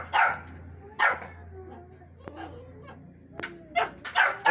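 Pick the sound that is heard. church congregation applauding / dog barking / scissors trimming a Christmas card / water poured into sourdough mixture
dog barking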